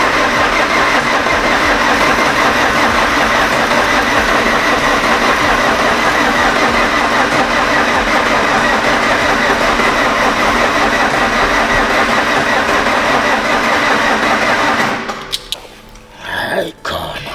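A rebuilt Toyota RunX engine runs steadily and loudly up close for about fifteen seconds, a continuous mid-pitched drone with idle rumble, then cuts out abruptly into a few scattered knocks and near-quiet.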